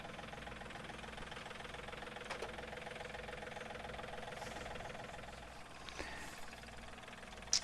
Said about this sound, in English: The tractor operator controls everything from the tractor deck